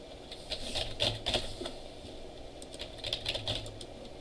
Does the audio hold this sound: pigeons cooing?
no